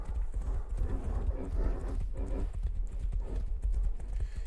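Hooves clip-clop in a steady trotting rhythm as a horse moves along in a video game, close and fairly quiet, with no voices present.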